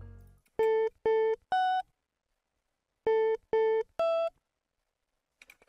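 A dry guitar melody sample with no effects, played as two identical phrases of three clean, sustained notes stepping through a scale, separated by a short silence, loud and alone.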